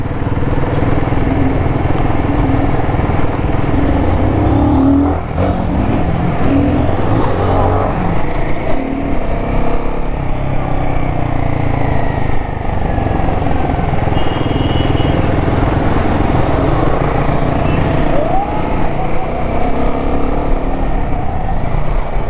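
A Royal Enfield Himalayan 450 motorcycle is ridden over speed breakers with slick gear shifts; its engine and road noise drone loudly and continuously throughout, with no speech.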